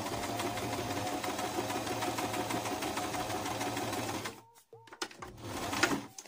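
A sewing machine stitches bias binding onto fabric with a rapid, steady mechanical chatter, loud and close, for about four seconds, then stops; a few faint handling clicks and short bursts follow.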